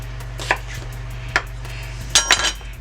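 A knife cuts potatoes into pieces on a cutting board, giving a few separate close chopping knocks and then a quick double chop, over a low steady hum.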